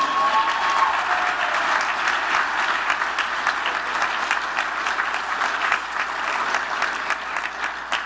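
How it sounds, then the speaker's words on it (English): Steady, dense applause from a large audience at an award or hall-of-fame gathering fills the whole stretch, an even wash of many hands clapping at close to moderate distance with no talk over it. "Let's hear it for ourselves."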